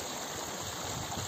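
Spring meltwater stream in Altai Krai rushes steadily close by, a dense continuous wash of flowing water with no pauses.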